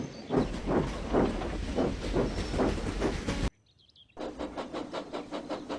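A steam train hauling a goods train rolls along the rails with a steady rhythmic clatter, loud and close, briefly cutting out before the rhythmic wheel beat returns.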